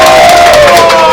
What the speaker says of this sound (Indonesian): Kasih lagi tepuk tangan lagi.